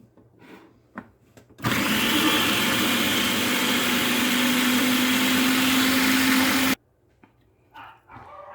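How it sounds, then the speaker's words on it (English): A food processor blends salty olives with Italian seasoning, its motor starting abruptly into a loud, steady whirring grind that holds for about five seconds before cutting off, with quiet kitchen handling sounds before and after. "I'm just going to put my lid on my food processor"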